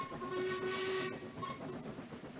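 A steam locomotive whistle sounds a loud, clear sustained blast, then a shorter fainter toot, over a background of hissing steam.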